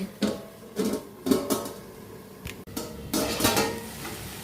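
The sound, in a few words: wok (kadai) being covered with a lid while cooking greens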